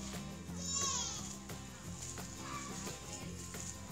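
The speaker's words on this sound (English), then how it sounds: "We got chickens." Chickens on a small family farm cluck and squawk in short, near bursts over a busy background, with people talking nearby.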